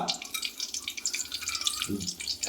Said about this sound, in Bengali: এই তেলেই আমি এবার ফোড়ন দিয়ে দেবো ফোড়নে দিচ্ছি হচ্ছে তেজপাতা